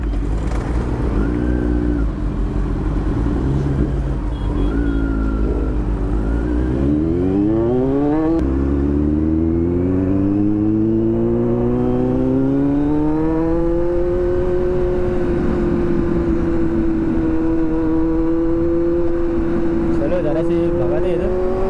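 A Kawasaki Z900 motorcycle fitted with a loud aftermarket exhaust revs hard close by, the pitch climbing in repeated sweeps and then holding at a high sustained roar, with voices talking underneath.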